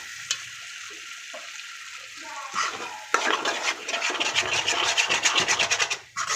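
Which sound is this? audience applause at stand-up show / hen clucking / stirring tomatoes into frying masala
stirring tomatoes into frying masala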